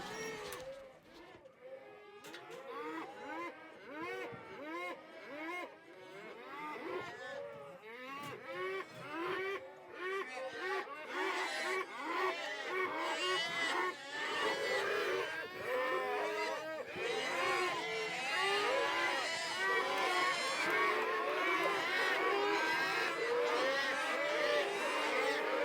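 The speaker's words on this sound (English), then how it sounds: "they can go back out into the corral and cry for their babies" Cattle in a corral bawl over and over for calves they were separated from, a dense, overlapping chorus of drawn-out calls that grows louder and more crowded toward the end.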